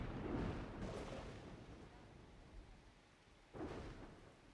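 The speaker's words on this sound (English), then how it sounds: "There you go, like a big storm." Thunderstorm in Dawn of Man: low rumbling thunder rolls over steady rain, with one burst early and another swelling near the end, heavy and fairly distant.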